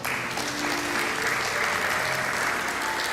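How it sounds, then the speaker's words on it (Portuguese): Church congregation claps for the Lord during an evening service, a continuous, even roar of applause from many people, with faint sustained tones beneath. "Palmas para o Senhor"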